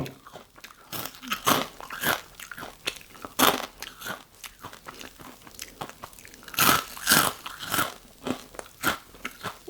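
Crispy baked Shovy fish sticks being bitten and chewed up close, with loud crunching bites and repeated crackly chewing spread unevenly over several seconds, no talking.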